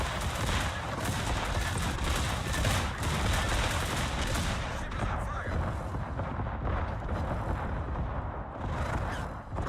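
Heavy explosive impacts and booming blasts from torpedo hits on a warship in World of Warships, loud and continuous with dense rumbling bursts throughout, easing slightly in the second half.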